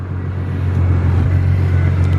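A car rolls past close by with a loud, steady low rumble that swells slightly as it goes by, alone without voices.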